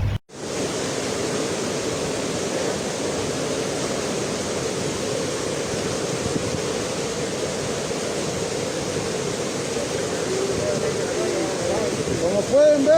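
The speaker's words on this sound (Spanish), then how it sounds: "Como pueden ver, ahí está el río ya colapsado." A river flooded and overflowing after a tropical storm in Honduras rushes near a bridge, a loud, dense, unbroken roar of churning water close by.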